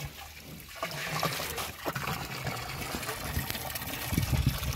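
A rhino playing in water, a close, continuous trickling and splashing with a few sharper sloshes and a louder rumbling surge near the end, no talking heard.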